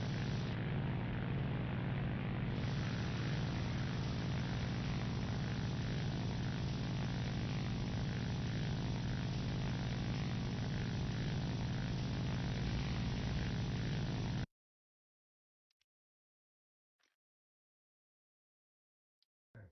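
Propeller engine of a P-51 fighter plane in an air combat video game, a loud steady droning roar that cuts off abruptly, leaving near silence with a few faint clicks.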